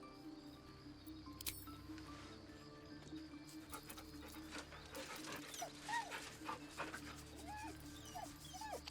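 The dog Scratch in Baldur's Gate 3, a faint whimper with a few soft high whines and yips over a quiet hum of game ambience.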